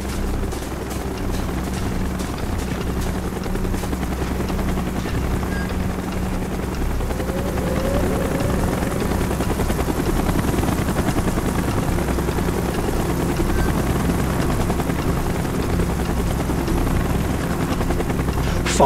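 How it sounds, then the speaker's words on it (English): Helicopter from the video game Call of Duty Black Ops flying in, a loud, steady rotor thrum and engine roar that builds slightly and holds throughout. "Chopper's inbound!"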